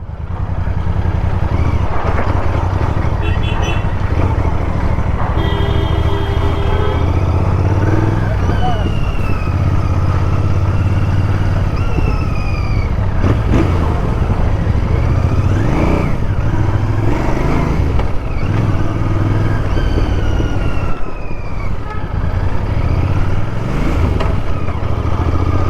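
A Royal Enfield Interceptor Bear 650 motorcycle runs with a raspy exhaust, revving and rising in pitch several times, close and loud, with people talking over it.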